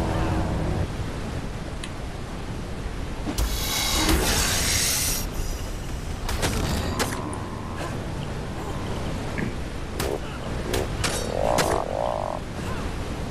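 Frogs croak in a swamp in Ark Survival Evolved: a steady chorus of croaks and calls, with sharp louder croaks breaking through every few seconds and no talking.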